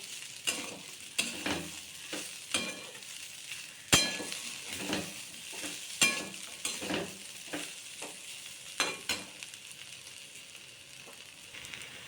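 Poha being stirred and mixed in a frying pan, with repeated scraping strokes of a spoon and occasional light clinks against the metal over a low sizzle, close and fairly quiet.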